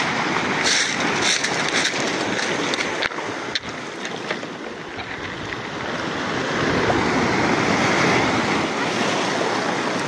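Big ocean waves surge and wash in a continuous, loud rushing roar that swells and ebbs, heard out on the water on a trevally fishing trip.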